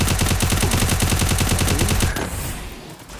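Rapid automatic gunfire in the Free Fire mobile game, a loud close burst of evenly spaced shots that stops abruptly partway through and leaves a fading echo.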